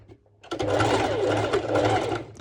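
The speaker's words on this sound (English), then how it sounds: "I will be doing first a straight stitch because I want to secure well" A sewing machine runs a straight stitch on fabric for a crop top, starting after a brief quiet moment and then whirring steadily and loudly up close.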